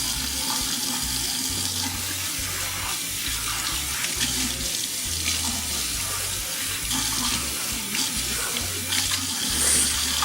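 Steady stream of water from a kitchen faucet running into a sink while something is rinsed during cleanup, continuous and fairly close throughout with no talk.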